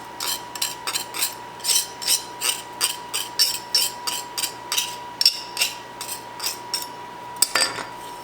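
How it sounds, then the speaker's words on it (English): A mortar and pestle grinds in a steady rhythm, about twenty scraping, clinking strokes in a row, close and fairly loud, with no talking. "we're going to just use one of these mortar and pestles"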